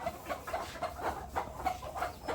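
Hens cluck in a quick, regular series of about eight soft clucks, close and fairly quiet, with no other sounds over them.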